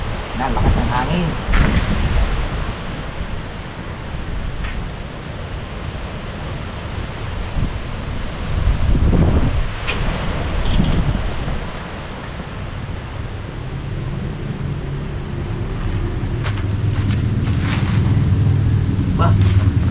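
Steady wind roars and buffets across the microphone for the whole stretch, with rushing gusts swelling and easing and occasional knocks in between.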